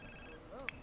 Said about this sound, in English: Who's got a phone ringing?